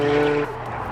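A Nissan Silvia S15 Spec-R with a 400 HP Vertex build slides sideways in a drift, its engine droning loudly with a tonal whine that drops away halfway through as tire noise continues, heard close-up.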